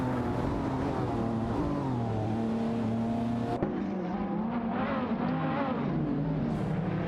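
Race cars in a video game AI race, including a Hot Wheels Skid 01, roar with a loud, continuous engine whine whose pitch climbs and shifts, with an abrupt gear change midway. No voices.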